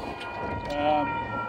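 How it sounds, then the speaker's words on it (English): A train approaches, heard from inside a Mercedes-Benz R107 380SL while driving: a continuous low rumble with faint steady tonal hum, moderately loud and unbroken. "There's a train coming."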